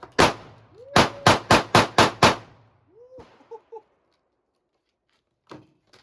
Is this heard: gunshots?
yes